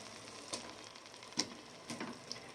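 Chicken pieces go into a tomato masala frying in oil, giving a soft, steady sizzle broken by a few sharp clatters and stirring knocks, with no talking.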